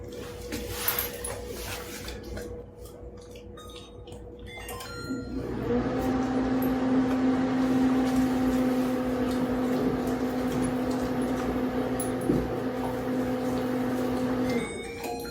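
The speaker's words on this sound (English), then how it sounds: "my convection oven, which is making a fan noise" A convection oven fan starts partway through, a continuous whirring hum that holds steady and fairly loud over a faint background drone.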